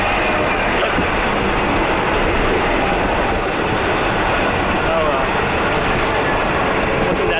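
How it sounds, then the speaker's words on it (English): A train passes close by, producing a loud, continuous rumble of rolling wagons with a faint squeal of wheels, all heard outdoors on a cold day. "Yep, there's the train."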